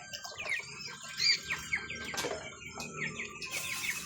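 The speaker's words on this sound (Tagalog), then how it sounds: "magpapakain tayo ng manok" Fifteen-day-old chicks chirping nearby at feeding time, a scatter of high peeping calls with some soft clucking and light background noise, no speech.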